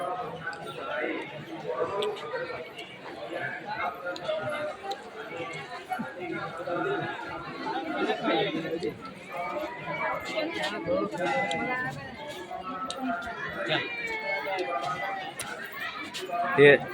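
A dense crowd chatters continuously inside the busy Siddha temple, Siddhanath, a steady babble of many overlapping voices at moderate volume, with occasional footsteps and shuffling throughout.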